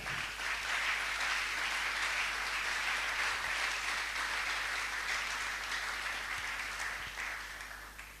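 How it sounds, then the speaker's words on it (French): A church congregation applauds during a French-language sermon. The clapping is dense and sustained, heard from a distance across a large room, and slowly fades toward the end. "Acclamons le Seigneur."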